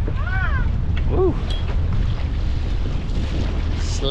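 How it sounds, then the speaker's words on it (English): Strong wind buffets a small boat heading out for lobsters after storms, gusting steadily into the microphone over water noise, with a few faint chirps and no talk. "Slightly breezy."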